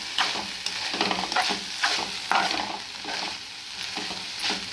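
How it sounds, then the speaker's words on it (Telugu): Sprouted grains frying in a pan, a steady close sizzle broken by repeated scraping stirs every second or so, with no talking. "ఈరోజు వెరైటీగా ఇక్కడ మొలకెత్తిన గింజలు ఫ్రై చేస్తా"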